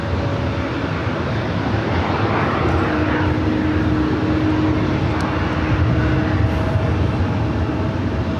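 A heavy Airbus A350 on final approach at Los Angeles LAX airport gives a loud, steady jet roar with a faint whining tone, sustained evenly from start to finish and without talk over it.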